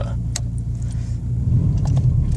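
A car engine idles after a cold start, a steady low rumble heard up close, with faint jingling clicks over the top.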